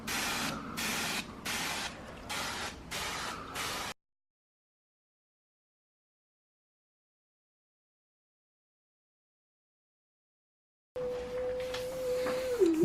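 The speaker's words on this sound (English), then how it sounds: "And we'll just spray it on." A hand sprayer pumps out liquid in four quick hissing bursts, close and evenly spaced, then silence, followed by more hissy activity with a steady faint tone.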